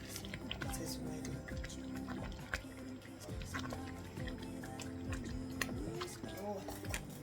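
Oily tomato stew for jollof rice bubbles and spatters in a pot, giving irregular wet pops and sizzling squelches up close, with a voice talking over the cooking.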